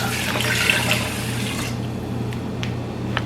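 Water pours steadily from a tap into a measuring cup for cooking white rice, a close, even rush that stops after a couple of seconds and leaves a low hum and a few faint drips.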